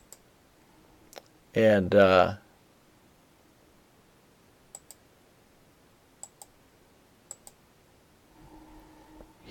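Sharp isolated computer mouse clicks, a handful of single and double taps spaced apart in a quiet room, following a short spoken word.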